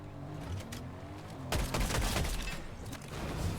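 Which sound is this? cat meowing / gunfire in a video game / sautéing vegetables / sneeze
gunfire in a video game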